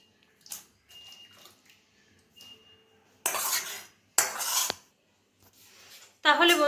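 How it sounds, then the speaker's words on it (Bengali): Egg and potato curry being scraped and poured from a pan into a serving dish, with intermittent clinks of a metal spoon and two bursts of sloshing, wet noise, close by. "এখন আমি ঢেলে রাখবো একটি পাত্রে।"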